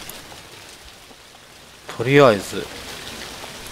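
Steady rain hiss from a horror video game fills the background throughout, with a brief spoken voice rising over it near the middle.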